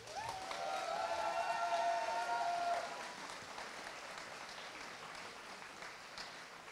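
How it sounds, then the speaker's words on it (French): Applause from a convention crowd at a cosplay contest, for the jury, fairly distant and moderate, swelling for the first three seconds with a bright whistle-like tone over it, then settling into softer, thinner clapping. "Je vous demande d'applaudir très fortement notre jury"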